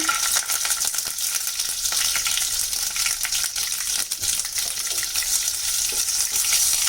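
Mushrooms frying in mustard oil with green chilli and onion in a kadai, giving a loud, steady broadband sizzle with scattered stirring clicks throughout, no voices.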